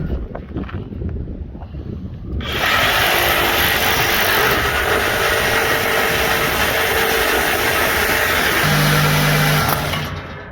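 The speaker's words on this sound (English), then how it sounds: "I plan to give the Sawzall about a 30-second try before we take the whole thing down and go to the plasma cutter" A Sawzall reciprocating saw cuts metal on a Cadillac being converted into a NASCAR stock car, starting abruptly after two seconds of quiet and running as a loud, steady, buzzing roar for about eight seconds before stopping.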